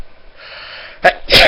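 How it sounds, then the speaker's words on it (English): A single sharp sneeze bursts out close and loud after a brief quiet intake of breath, with nobody speaking. "got a sneeze"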